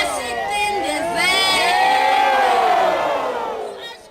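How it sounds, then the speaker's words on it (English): A protest crowd shouts and cheers the call-and-response words Yebo and Pansi at a climate change play, many voices rising together in a loud, sustained group roar that swells and then tapers off. "The crowd was encouraged to take part, shouting Yebo and Pansi throughout the play."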